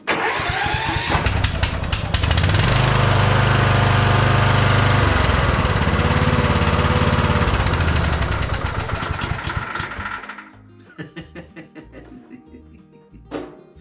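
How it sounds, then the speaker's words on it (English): A Kohler Courage engine on a ride-on mower is cranked at full choke despite an intermittent no-spark fault, a loud, prolonged rhythmic churning of the starter that ends abruptly, followed by a few scattered clunks. "I'm going to try and start my estate car. It probably won't go, but you never know."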